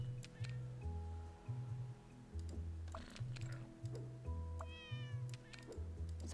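In the video game, a cat meows once, a rising-then-falling call over a steady pulsing electronic music loop with soft clicks, fairly quiet overall.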